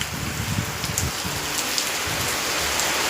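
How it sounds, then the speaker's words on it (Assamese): Heavy rain falls nearby in a continuous, loud wash of drops hitting surfaces, with a faint low rumble underneath and no speech. "साक केनेका पानी परिছে"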